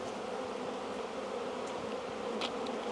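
Honey bees buzz steadily around an opened beehive during a frame inspection, a dense, continuous hum close by with no talk over it.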